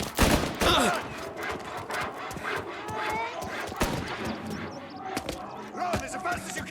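Bursts of gunfire ring out in a Mafia: Definitive Edition street shootout, sharp irregular shots and rapid volleys cracking through an alleyway over quieter game ambience.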